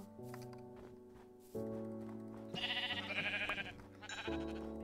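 Sheep in a modded Minecraft game bleat several times in a row, with clear, fairly loud, slightly overlapping calls and no talking.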